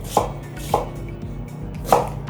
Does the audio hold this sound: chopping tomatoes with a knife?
yes